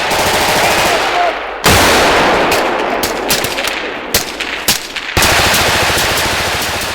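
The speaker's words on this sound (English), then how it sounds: "Good amount of rounds going down there." Sustained machine gun bursts from a firefight by Swedish special forces soldiers, loud and close, with rapid overlapping rounds and sharp sudden onsets, running almost without pause through the whole stretch.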